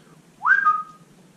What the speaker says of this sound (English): walks into the field and whistles